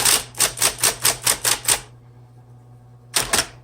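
A 1970s Smith Corona Deville electric typewriter gives a rapid, even run of about nine sharp, loud key strikes, goes quiet under a low motor hum, then strikes twice more close to the mic.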